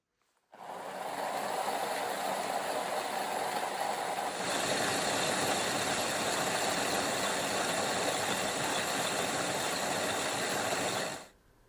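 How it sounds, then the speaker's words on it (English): A stone sphere-making machine grinding soft Petoskey stone whirs and rumbles steadily with a gritty grinding texture, starting abruptly, stepping up slightly in tone partway, then cutting off at the end. "into the sphere machine it goes"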